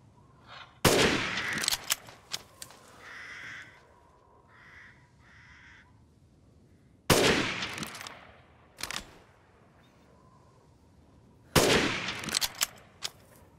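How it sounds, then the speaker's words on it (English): Bursts of gunfire shooting at winged monsters in Resident Evil Village, arriving as three loud volleys separated by quieter stretches with bird-like cawing between them. "let me see if I can shoot those winged monsters over there"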